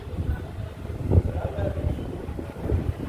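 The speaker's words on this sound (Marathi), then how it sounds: "असला वारा सुटला आहे एवढा डेंजर वारा आहे ना" Strong wind buffets the microphone in low, rumbling gusts, with brief voices mixed into the roar.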